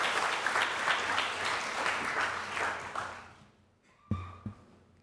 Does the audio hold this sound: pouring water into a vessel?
no